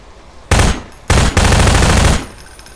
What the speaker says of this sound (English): I'm still firing everything.